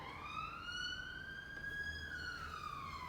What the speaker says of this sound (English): the bloody police sirens here.